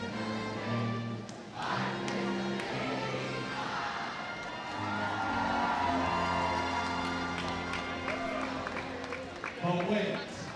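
A crowd cheers from the stands at a varsity women's high school basketball game between Archbishop Mitty and St. Francis. The steady, swelling roar carries under an announcer's voice.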